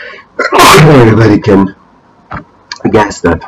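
One loud, close, forceful sneeze bursts out, followed by a pause and then a few quiet spoken words.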